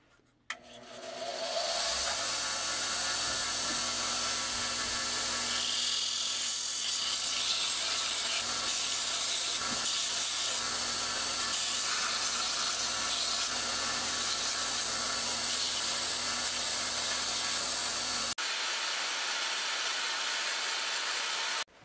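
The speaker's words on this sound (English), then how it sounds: "just getting ready to use the belt sander here to smooth off the edges" Belt sander smoothing the edges of a sheath, a loud, continuous broadband whir that starts up, holds steady for about sixteen seconds and then drops to a quieter hum before cutting off.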